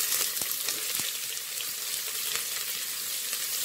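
Onions sizzle in hot sesame oil with bay leaf and fennel seeds for vegetable biryani. A steady, close frying hiss carries scattered crackles and pops.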